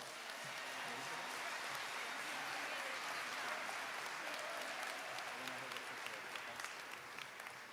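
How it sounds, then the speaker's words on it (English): Applause for a nursing program at a career academy recognition ceremony, a steady hall-wide clapping from a large crowd, somewhat distant and faint, with scattered cheers and voices mixed in. "Let's give our nursing program one more round of applause."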